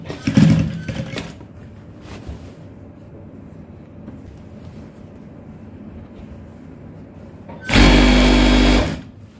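An electric sewing machine hems the bottom edge of boxer shorts, a brief whirring burst at the start and a louder, steady run of stitching near the end, with quiet handling in between.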